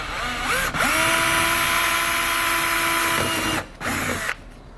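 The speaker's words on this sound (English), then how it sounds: "we're going to drill the center section out" Power drill with a small bit boring out the centre of plastic rivets on a 2013 Jeep Grand Cherokee during a base plate install, a steady high whine held for several seconds, stopping briefly and restarting near the end.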